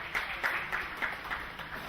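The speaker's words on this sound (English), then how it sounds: "Can we give them a round of applause?" A brief round of applause from a small crowd at a high school anniversary gathering, scattered claps pulsing in a loose, uneven rhythm at moderate distance.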